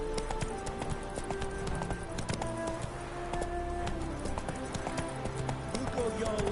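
A horse gallops in The Witcher 3 with quick, busy hoof clatter running steadily throughout, mixed with game sounds and a voice speaking over it.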